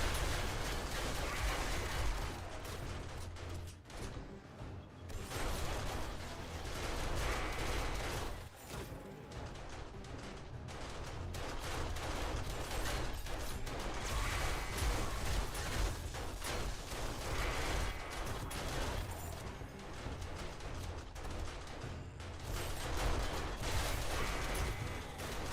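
Automated side turrets in the 7 Days to Die video game keep firing in dense, continuous volleys, loud and sustained throughout with only brief lulls, no talk over them.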